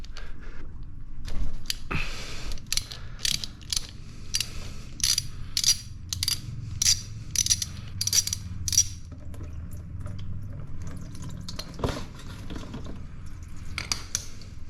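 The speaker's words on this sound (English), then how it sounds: "you're going to get a 13mm socket and go ahead and open up the drain plug" A socket wrench works a 13mm drain plug on a Benelli TNT motorcycle during an oil change, giving a run of quick metallic ratcheting clicks and clatter up close, with no voices.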